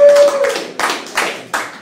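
Audience clapping during a talk, a handful of sparse, loud claps close by, spaced unevenly with a brief tone fading at the start.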